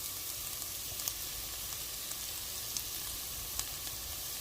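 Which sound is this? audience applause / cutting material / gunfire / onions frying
onions frying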